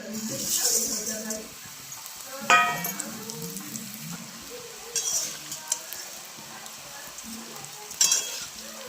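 Shevli (dragon stalk yam) roasting in ghee in a wok, with a steady close sizzle broken by scraping stirs and spoon clinks, and faint voices in the background.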